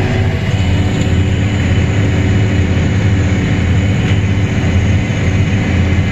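A 2290 rotary combine with a Redicop chopper harvesting big windrows, its engine and threshing drone loud, constant and heavy from the cab, with no break.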